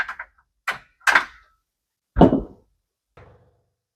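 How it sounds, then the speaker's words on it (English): An RV awning strap ratchet is handled and flipped back over, giving a handful of sharp, separate clicks and knocks spaced irregularly over a few seconds, close and crisp in otherwise quiet surroundings. "Once you're done, you're going to hold the strap and flip that ratchet back over."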